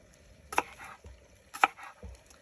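A knife slices garden onions into rings on a board, two distinct close chops about a second apart with softer knocks following, quiet and without speech.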